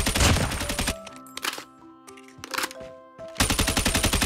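Rapid automatic weapon fire in the mobile shooter game Call of Duty Mobile comes in several short loud bursts and one longer burst at the end, with quieter tonal game sounds in the gaps.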